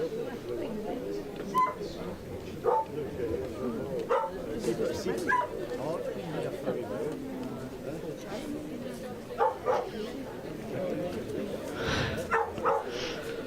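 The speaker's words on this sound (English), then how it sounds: "the dog that's getting slightly irate on the bank" A dog barks and yips irately on the bank beside a bowling green during a national lawn bowls championship, in short intermittent bursts at moderate distance over steady commentary and crowd ambience.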